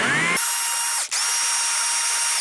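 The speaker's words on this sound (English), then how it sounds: "And now it's just a matter of scraping." High-pitched power carving tool scraping wood on a chainsaw-carved cardinal, a loud steady whine after a short start, briefly dipping once before continuing alone.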